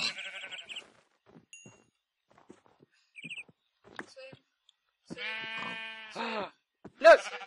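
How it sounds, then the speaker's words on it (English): A bighorn ram in the Minecraft modpack FTB Unleashed gives a loud, wavering bleat near the end, after scattered quieter game sounds and brief chirps. "Look! It's a ram! A bighorn sheep."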